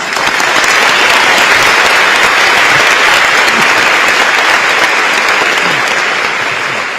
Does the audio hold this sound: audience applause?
yes